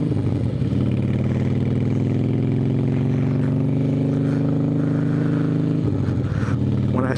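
A Harley motorcycle rolls slowly over gravel, its engine holding a steady low, close rumble before dipping and picking back up near the end.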